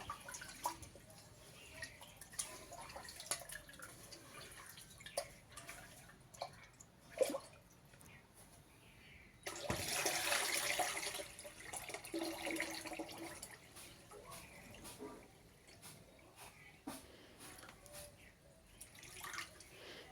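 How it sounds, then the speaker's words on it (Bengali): Water used to rinse rice is poured out in one short splashing gush partway through, between quiet scattered drips and small handling noises. "তো জলটা ঢেলে দিচ্ছি"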